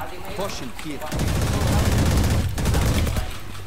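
Rapid gunfire bursts from a shooter video game crackle loudly in the middle of the stretch, dense automatic fire after a short quieter start with faint voices, then easing slightly near the end.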